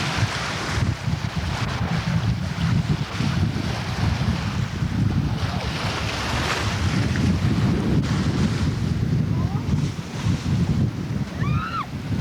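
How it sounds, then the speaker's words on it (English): Strong outdoor wind in Michigan's Upper Peninsula buffets the microphone with a constant loud roar and rumble, with faint squeaky chirps near the end. "Wind's blowing right along, ain't this cool?"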